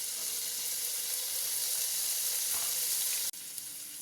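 Onion and tomato fry in a pan, a soft steady sizzle and hiss close by that stops abruptly with a brief clatter near the end.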